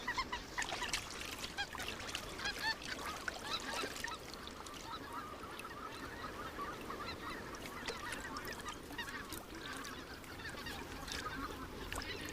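A dense chorus of white-fronted geese honking and calling in the Russian taiga, continuous and overlapping, heard from some distance.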